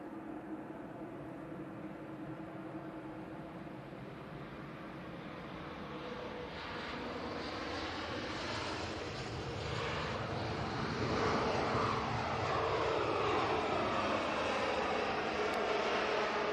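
An EasyJet airliner arrives at Manchester Airport, its broad jet roar building steadily and swelling louder toward the end as it draws nearer, with no voices over it.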